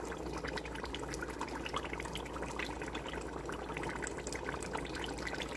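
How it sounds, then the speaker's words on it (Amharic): Warm water is poured into a pot of Ethiopian chicken stew, doro wat, with a soft, continuous trickling splash, quiet and close, with no speech. "አሁን ከዚህ በኋላ ትንሽ የሞቀ ውሃ እከልሳለሁ"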